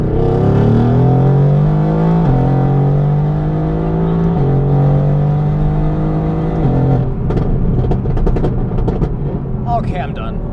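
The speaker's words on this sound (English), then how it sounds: "Just listening to the actual exhaust note now" A tuned Mercedes-AMG GT R with straight-piped exhaust, downpipes and a stage 1 tune, revving loudly in a stepped climb and drop of engine pitch, then crackling as it settles, with voices talking over it.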